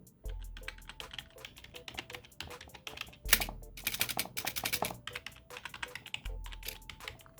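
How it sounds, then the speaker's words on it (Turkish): Close, brisk typing on a worn HP Pavilion 800 gaming keyboard with mechanical-feel keys, a steady run of clicky keystrokes with a few faster bursts and heavier taps. "mekanik hisli klavyemdeki sesi dinleteyim"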